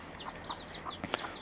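A red-legged partridge hen with her newly hatched chicks on a farm: faint, high, repeated peeping from the chicks with a couple of soft clucks, quiet and brief.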